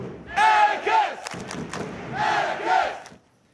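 The home crowd at a Portland Timbers soccer match roars in two big rhythmic chant bursts separated by a lull with claps and thuds, loud and massed.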